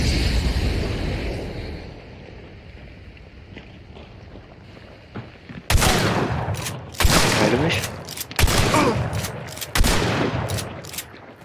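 Gunfire in Hunt Showdown, several sharp loud shots cracking out in a cluster after a quieter windy stretch, with players talking faintly in between.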